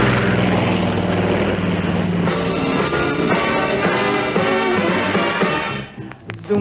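Propeller airplane in flight as a sound effect in a TAA airline advertisement, a loud, continuous engine drone that holds steady and then dips briefly near the end.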